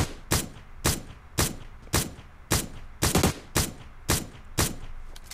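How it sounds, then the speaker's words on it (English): A gun with a light grip in PUBG Mobile firing in a steady series of about ten sharp, loud single shots, evenly spaced roughly half a second apart with one quick double burst midway, heard alone without talk. "I think I put the most shots on target there with that one firing repeatedly."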